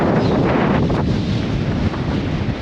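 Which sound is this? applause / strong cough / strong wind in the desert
strong wind in the desert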